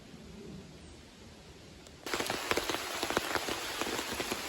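Steady rain falling at night, a soft patter at first that suddenly grows louder and denser, with crisp close drops striking a surface throughout; no talking.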